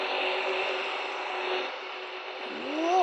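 A Bugatti car engine hums steadily at moderate distance, then rises in pitch near the end as it revs up, with no talking.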